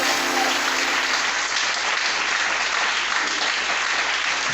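A church congregation applauds and cheers loudly for the Lord, a dense, steady roar of clapping and crowd noise that fills the space without pause from start to finish.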